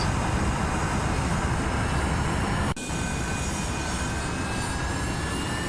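A loud, constant jet engine roar fills the whole stretch, with a brief dropout midway and a faint rising whine over the steady rumble.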